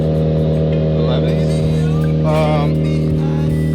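A Mitsubishi Evo X running 91 octane with bolt-on parts drones loudly and steadily on a dyno under load, with a constant engine hum and some faint overlapping noises.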